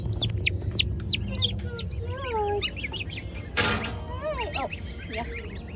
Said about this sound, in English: Oh, and guineas.